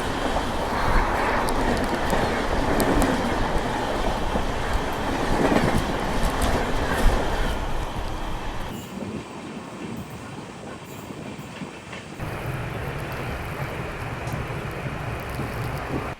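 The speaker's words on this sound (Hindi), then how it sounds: "तो अपनी ट्रेन का इटारसी में आगमन हो रहा है और ऑन टाइम ट्रेन पहुंच रही है।" A train pulling into Itarsi station on the Indian railway network, a steady rumble of rolling cars with some clatter that quietens partway through, then the rumble returns, heard from on board.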